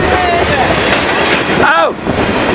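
A train passes nearby with loud rumbling, clattering wheels and a brief high squeal near the end, while people shout and talk excitedly over it.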